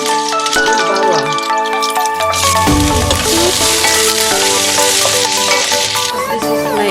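Onion and garlic sautéing in a pan for Filipino chicken afritada, a loud crackling sizzle that bursts in a few seconds along and continues under loud background music.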